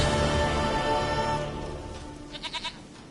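A goat in a video game gives one short, quavering bleat near the end, loud and close, after a sustained droning tone fades away.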